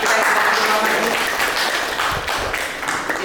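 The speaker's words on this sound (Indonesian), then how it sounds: "tepuk tangan buat teman kita yang sudah kenal ini" A class of students claps for a classmate in a school lesson, a brisk burst of applause mixed with chatter and voices.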